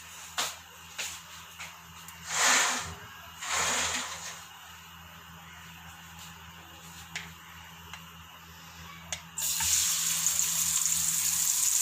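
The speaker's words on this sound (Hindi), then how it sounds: "ऑयल गर्म हो गया था, दाल हमने इसमें ऐड कर दी है। अब हम दाल को अच्छे से इसमें भून लेंगे।" Lentils (daal) being fried in half a cup of hot oil in a kadhai wok sizzle quietly, with scattered ticks and two louder stirring swells early on, then a brighter, steadier hiss of frying rising toward the end.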